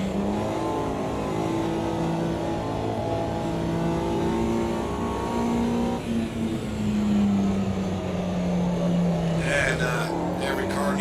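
Mini Cooper, a British 1960s front-wheel-drive car, racing at Brands Hatch in the Automobilista 2 sim, its engine droning steadily with pitch shifts as it revs and changes gear, loud and continuous throughout.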